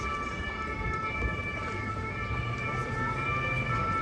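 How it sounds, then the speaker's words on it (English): A siren wails steadily in the distance in Paris, along the Seine, its sustained tones holding over a low background rumble, with no voices. "That siren always reminds me of the Diary of Anne Frank."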